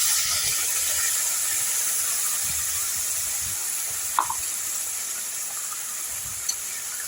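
Spice masala frying with fried potatoes in a pan for banana-flower dhoka, a steady close sizzle and hiss with a couple of faint clinks of utensils.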